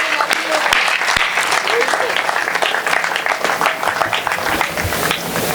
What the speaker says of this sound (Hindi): मैं एक बार पुनः रोहित के लिए तालियां बजाई